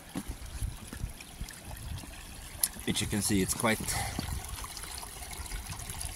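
Spring water flows out from under a road on a mountain homestead, a steady trickling and gushing rush that continues under a person talking.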